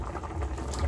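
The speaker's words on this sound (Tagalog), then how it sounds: "Ayan, tuloy-tuloy ang kulo mga friendship" Canned beef stew simmers in a covered pot with a continuous low bubbling rumble, steady and close, with no talk.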